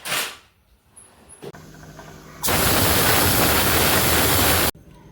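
A pressure cooker cooking dal for a South Indian masala pappu releases one loud, steady hissing steam whistle for about two seconds, preceded by quiet kitchen knocks and ending abruptly.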